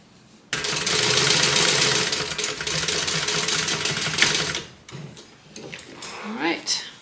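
A domestic sewing machine stitches fabric in a long rapid mechanical run, then stops, followed by shorter bursts and handling noises, with a voice speaking over parts of it.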